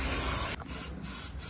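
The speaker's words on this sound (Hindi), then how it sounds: "उस पे मारेंगे अब ल्यूब, सॉरी क्लीनर।" Chain cleaner sprayed onto a Kawasaki Z900 motorcycle chain, a loud close hiss in three bursts with short pauses between them, no talk.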